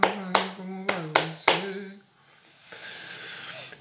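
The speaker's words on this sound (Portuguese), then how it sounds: "vamos treinar essas duas palmas" Hand claps keeping a capoeira rhythm, four or five sharp close claps in a quick uneven pattern over a sung voice, then quiet room tone.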